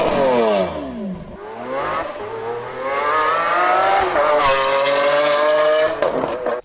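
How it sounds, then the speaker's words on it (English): A Lamborghini Aventador SV engine screams at high revs as it climbs and shifts through gears, loud and close, with rising and falling pitch. "You'll notice this Aventador SV sounds very similar to a 90s Legend."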